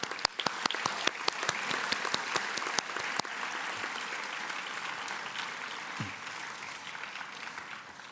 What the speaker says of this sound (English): let's give a big round of applause to yourselves